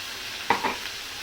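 A ground paste of coriander, ginger, garlic and tomato sautés in oil with a soft low hiss, with one quick stir scrape near the start and a second fainter one.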